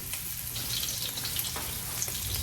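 A snowshoe hare heart fries in a pan with a steady, faint sizzle, broken now and then by small pops and spatters.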